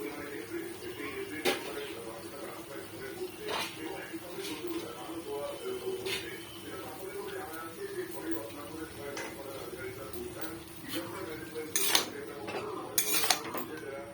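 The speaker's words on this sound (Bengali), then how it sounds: "পাতাটা দিয়ে আবার আগের মতন নাড়াতে থাকবো।" A spoon scrapes and clinks against a pan as ash gourd shoots and leaves are stirred, producing irregular, fairly quiet metallic taps and rustles close by, with a few louder clatters near the end.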